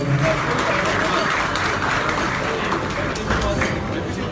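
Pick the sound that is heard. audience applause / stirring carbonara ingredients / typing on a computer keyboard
audience applause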